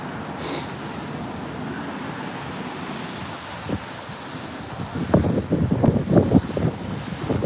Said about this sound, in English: Oh yeah, wind is picking up.